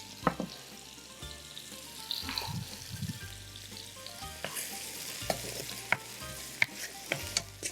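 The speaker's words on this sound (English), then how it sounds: "So you want to saute the onion a little bit. Get them a little bit translucent or brown." Onion sautéing in a pan, a quiet steady sizzle broken by clinks and scrapes of a utensil that come faster toward the end, close by with no talking.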